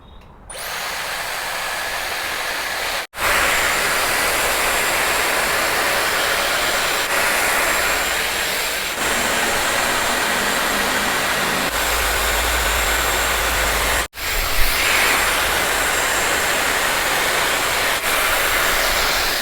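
A Dyson Airwrap multi-styler blows air through its bristle brush with a loud, steady, whooshing motor roar. The sound runs continuously, with two brief cut-outs, and no one speaks.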